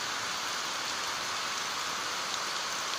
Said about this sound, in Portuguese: Muito tempo que não chove por aqui, gente, pelo menos muito tempo mesmo, chuva assim só agora.